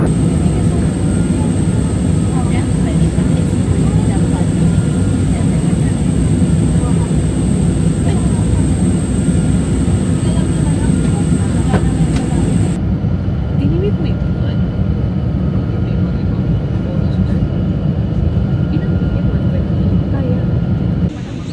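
Steady loud roar of aircraft engines heard inside an airplane cabin, a dense continuous rumble with faint voices and cabin chatter mixed underneath.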